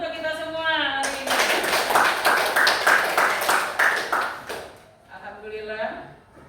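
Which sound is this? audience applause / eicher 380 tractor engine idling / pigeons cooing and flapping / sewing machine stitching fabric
audience applause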